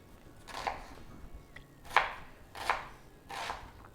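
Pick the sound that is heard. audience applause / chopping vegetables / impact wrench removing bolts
chopping vegetables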